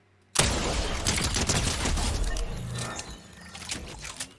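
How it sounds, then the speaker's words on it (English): In Fortnite, a blue-rarity shotgun blasts once, then a quick weapon swap leads into rapid SMG fire, a loud sudden boom followed by dense overlapping shots that thin out with scattered pops toward the end. "from 10 meters out, we hit the enemy with a shotgun and then we swap"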